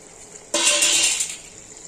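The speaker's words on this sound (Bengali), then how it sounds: "কাজু বাটিটা ধুয়ে একটু জল দিয়ে দিলাম" A little water is poured into a washed bowl that held cashew paste, giving a short close splash and trickle that starts abruptly and fades within about a second.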